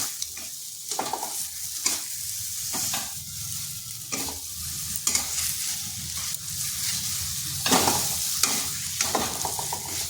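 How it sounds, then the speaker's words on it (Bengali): Boiled mashed potato being stirred with spices in a pan, repeated scraping strokes over a constant low sizzle, close and fairly steady for the whole stretch. "আলুটাকে আগে থেকে সেদ্ধ করে ম্যাশ করে নিয়েছিলাম। এরপর ভালো করে এই মশলার সাথে মিশিয়ে নিচ্ছি।"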